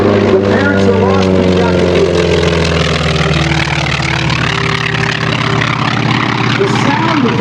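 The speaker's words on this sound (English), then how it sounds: "The sound of that engine is very, very distinctive. Because the exhaust stacks of that 9-cylinder radial engine are separated." A T-28 Trojan with a nine-cylinder radial engine and separated exhaust stacks drones loud and steady throughout, passing at an air show with a slight pitch shift as it flies by, while a voice talks underneath.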